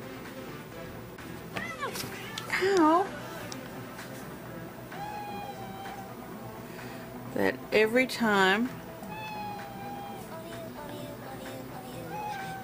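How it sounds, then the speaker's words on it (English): A cat gives two loud, drawn-out meows while being petted, rising and falling in pitch, with a person speaking briefly between them. "and I was petting the cat."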